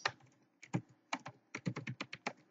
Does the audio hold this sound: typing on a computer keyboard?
yes